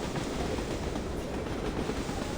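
Train carriages in the video game Reverse: 1999 rattle steadily along the rails, a continuous close rumble with faint rhythmic clatter throughout, no voices.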